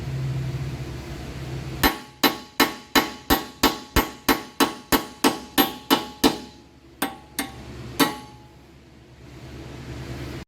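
Sharp metallic hammer blows drive old wheel studs out of a Mazda Miata hub. About fourteen evenly spaced strikes come in quick succession, then a few slower final hits, loud and close in a quiet space.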